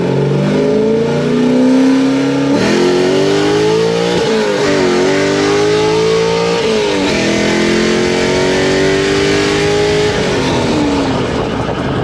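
A 2021 Chevrolet Silverado 3500 dually pickup on large aftermarket wheels accelerates hard, its loud engine note climbing through several gear shifts over about twelve seconds, close and steady with no talking.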